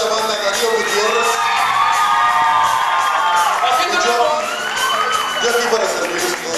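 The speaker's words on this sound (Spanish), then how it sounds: "En la batería un aplauso para el bebé de la banda, Darío Gutiérrez." A live crowd at a band performance cheers, whoops and shouts for the drummer, a dense, loud roar that stays sustained throughout.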